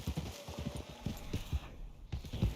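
Horse hooves clip-clop at a steady walking rhythm in the Red Dead Redemption 2 video game, close and moderately loud, with no talk over them.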